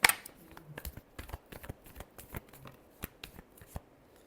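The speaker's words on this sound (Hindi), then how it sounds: "Last shuffle." Tarot cards riffled and shuffled by hand in a quick run of crisp, close flicks and taps, heard alone without talk.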